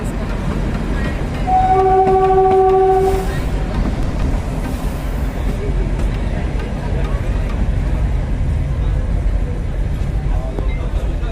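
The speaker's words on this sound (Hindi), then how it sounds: "Himalayan queen express" The Himalayan Queen Express on the Kalka-Shimla railway sounds a loud horn blast of about a second, then rumbles on steadily and close by for the rest of the stretch.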